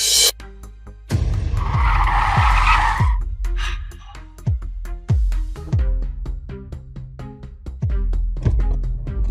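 A car pulls up with a sharp tire skid, a loud hissing squeal of about two seconds, followed by a string of heavy, regularly spaced thumps and clatter. Nobody speaks.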